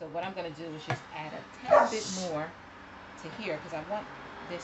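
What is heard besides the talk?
dog barking in another room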